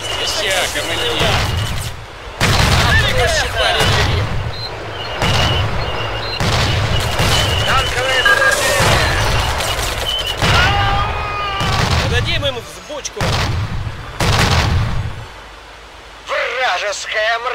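Heavy cannon blasts boom repeatedly in irregular bursts, loud and close, with voices shouting in Russian in between, in the video game Blitzkrieg 2.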